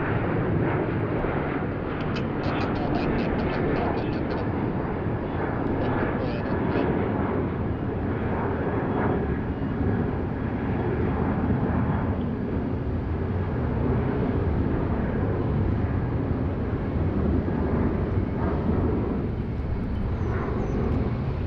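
Airplane at Sydney Airport, a steady loud jet engine roar with broadband rumble that holds continuously and alone for the whole stretch.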